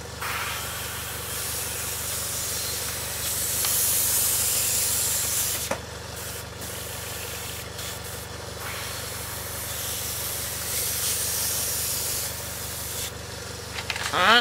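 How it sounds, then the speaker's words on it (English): Steady airy hiss of a Sparmax airbrush spraying paint, continuous and fairly close, with brief pauses and small clicks between bursts. "Spray some paint."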